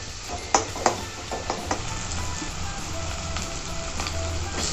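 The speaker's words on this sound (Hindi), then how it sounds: "देखंतु पियाज आ टमाटरटा केते भलसे फ्राई हो गेलानी" Onions and tomatoes frying with masala for a dhaba-style paneer masala, giving a constant hissing sizzle in the pan with a few sharp clicks of a spoon against the pan near the start, close and steady.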